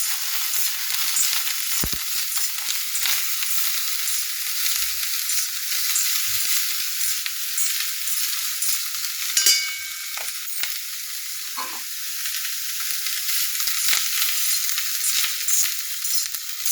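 Broccoli sabzi frying in a pan, a steady bright sizzle close up with occasional soft stirring clicks and no talk.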